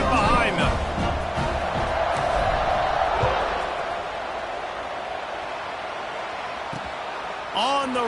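Video game stadium crowd in College Football 26, a broad steady roar of a large audience before a kickoff, loud at first then settling lower, with brief bursts near the end.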